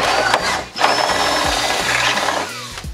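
A power drill bores a bolt hole out to a larger size on a BMW E30, whining loudly up close in several bursts with brief pauses and grinding bit noise as it bites into the metal.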